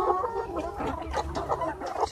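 Young laying hens, 13 weeks old, clucking in a flock of a few hundred, a busy overlapping chatter of short calls at close range, fairly loud, with no talking.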